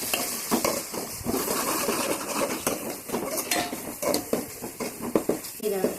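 Ginger garlic paste with turmeric sautéing in a pan for a home-style chicken and spinach curry, with steady scraping and clinking of a spoon stirring against the pan, close and continuous.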